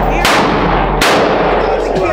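Gunfire in a shooting video game: two loud, sharp blasts about a second apart, each trailing into a heavy, sustained roar, with no speech.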